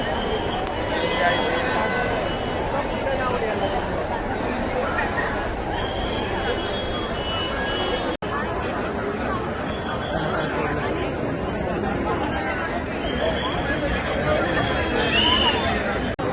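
Dense crowd chatter from devotees queueing at the Tejukaya Raja Ganpati pandal in Mumbai, continuous overlapping voices at steady loudness with a brief cut midway.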